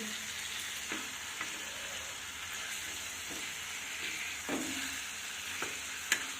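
Marinated food frying in a pan over a low simmer, an even, soft crackling sizzle with occasional faint scrapes and a small clink near the end, fairly quiet and without talk.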